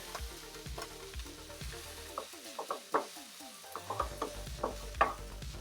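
Onions fry with a splash of Chinese cooking wine and garlic, a soft hiss under rhythmic scraping strokes of a spatula against the pan, heard alone at moderate distance.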